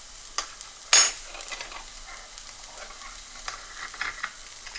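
Red chili powder and crushed Kashmiri chilli flakes fry quietly in a pan for a village-style Punjabi dish, a soft sizzle broken by a few sharp stirring clicks and scrapes.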